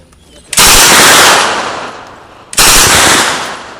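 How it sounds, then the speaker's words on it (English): A pulse rifle replica fires in machine gun mode, two loud, harsh bursts of rapid fire, the first about two seconds long and the second shorter, sounding close. "For the machine gun, aim right at the target."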